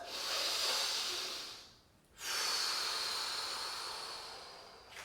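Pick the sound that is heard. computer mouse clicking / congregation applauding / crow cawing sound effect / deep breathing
deep breathing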